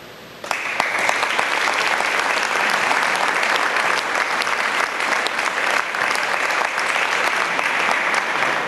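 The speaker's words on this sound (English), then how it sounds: "please do a round of applause to thank each individual for the work they have done" An audience at an FFA awards banquet breaks into sustained applause, loud dense clapping that starts abruptly and continues evenly throughout.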